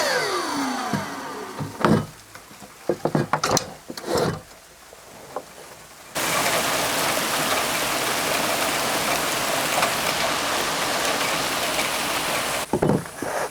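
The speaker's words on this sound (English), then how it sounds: "We're way at the back of the land right now, and it's raining." After several scattered knocks and clunks, steady rain sets in over homestead land as a loud, even hiss that continues for the rest of the stretch.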